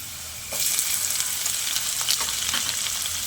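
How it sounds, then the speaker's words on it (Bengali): Chopped onion drops into hot oil with browned chopped garlic for an egg and brinjal curry. A loud sizzle bursts in after half a second and keeps crackling steadily up close. "লঙ্কা পেঁয়াজটাকেও আমি একটু ভাজা ভাজা করে নেব"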